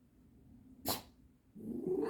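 Pet fox giving a single short, sharp sneeze up close in a quiet room, followed by soft rustling and a brief squeaky vocal sound.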